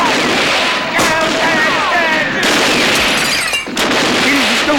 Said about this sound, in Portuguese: Eles estão usando munição de verdade?